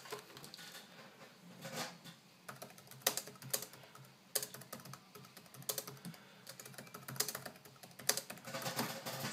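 Typing on a primary laptop's built-in keyboard, with rapid, uneven clusters of close, crisp key clicks and occasional heavier keystrokes running steadily throughout, no voices.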